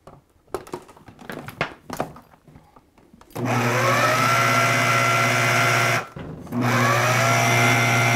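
An electric mixer kneading dough: a few scraping knocks and clunks, then the motor whirs steadily and loudly, briefly cuts out, and starts again.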